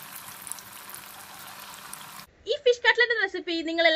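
More mackerel fish cutlets fry in oil with a soft, steady sizzle for a couple of seconds before a person starts talking over it.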